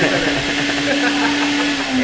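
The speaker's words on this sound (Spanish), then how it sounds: "es que tiene ciclos la licuadora" A blender whirs loudly and steadily in a cocktail bar, a continuous motor drone with a sustained hum and muffled background chatter beneath it.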